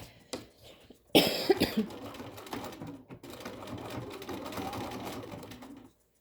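A home sewing machine stitches a fabric face mask in a steady mechanical whir of several seconds, beginning after a sharp cough and throat clearing and then stopping abruptly.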